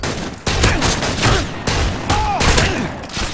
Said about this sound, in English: I'm bringing out my shotgun.